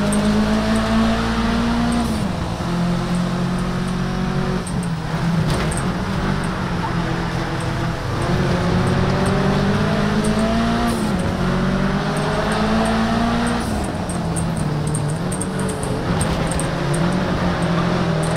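Race car engine in Project Cars 3 drones loud and steady, its pitch rising and falling through repeated gear changes, with no speech.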